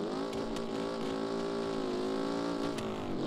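A car engine revs in a steady, rich harmonic drone that dips and climbs in pitch, close and continuous with a few brief knocks over it and no talking.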